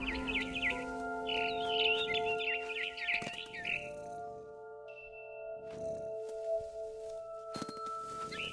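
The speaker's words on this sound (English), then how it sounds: "Then I heard chirping outside my window. It was a barn swallow going back to her nest." A barn swallow chirps in quick, high twittering bursts for several seconds, bright and fairly close, heard in a video game scene over a soft sustained musical drone, then falling quiet with only faint sounds after.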